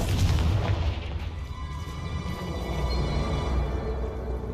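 A Confringo spell blast in the Hogwarts Legacy video game erupts as a loud, booming explosion that rumbles heavily through the low end and sustains for several seconds alone.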